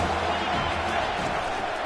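A stadium crowd roars steadily on third down at a football game, a dense, loud, continuous wall of cheering with no breaks.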